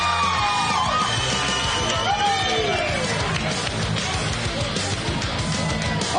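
A big crowd at a BKFC bare-knuckle fight weigh-in in Boston cheers, yells and whoops continuously, loud and dense, with an announcer's amplified voice cutting through the roar.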